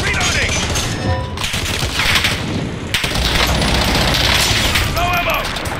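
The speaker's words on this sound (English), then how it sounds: "I'm taking fire!" Rapid bursts of automatic gunfire and booms from Call of Duty Warzone crackle almost continuously, with a voice speaking over the shooting.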